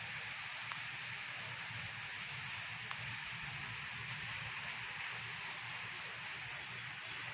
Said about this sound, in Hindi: देख सकते हो, अब बारिश आ रही है।